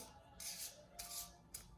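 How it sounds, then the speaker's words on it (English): Tarot cards are shuffled in three quick riffling bursts, each a crisp papery rush close to the listener, with brief pauses between. "Think about Prince Harry as you shuffle"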